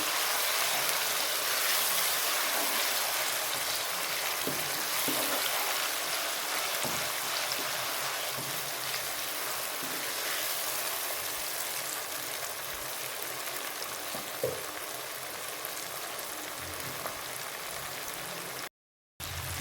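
Chopped tomato frying in a pan for mixed dal gives a constant, dense hiss of sizzling oil that runs unbroken for the whole stretch, with a very brief dropout near the end.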